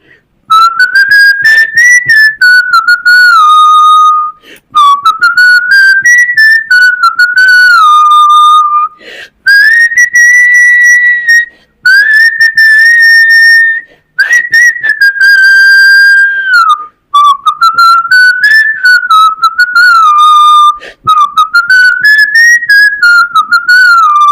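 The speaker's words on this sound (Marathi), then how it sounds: "मी शिट्टीतून गाणं म्हणून दाखवणार" A person whistles a Marathi song solo, a loud, clear melody in long sustained phrases separated by brief breaths, close to the listener with no talk.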